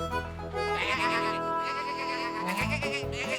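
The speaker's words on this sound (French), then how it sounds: "Oh non, ce sont les moutons." Sheep bleat loudly and close by, long wavering calls overlapping one another, ending with a lower bleat.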